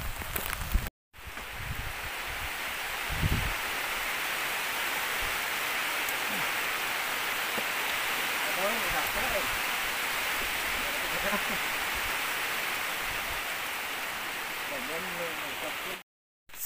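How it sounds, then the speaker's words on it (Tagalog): Heavy rain pours steadily on a farm with a vegetable garden, a dense, even hiss that lasts throughout with a few soft knocks and patters underneath. "Ulan pa, guys. Lakas ng ulan."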